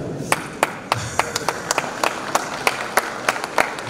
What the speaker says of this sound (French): Je ne sais pas ce que vous applaudissez